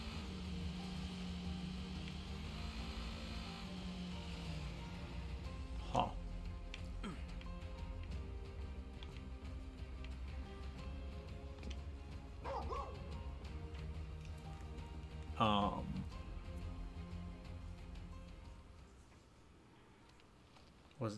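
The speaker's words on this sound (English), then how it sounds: "See what that barking is." A dog in Final Fantasy XV barks in a few short bursts over a steady low game hum and background music, fairly distinct against the ambience.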